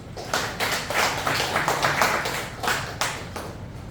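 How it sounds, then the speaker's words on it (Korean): A small audience at a Lions academy monthly meeting claps, a few seconds of sparse, close, uneven hand claps that fade out quickly. "건강하시라고 박수 한번 보내주시죠."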